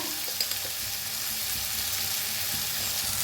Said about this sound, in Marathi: बघा मटकी छान अशी भाजून घेतलेली आहे तेलाचा आणि हळद टाकली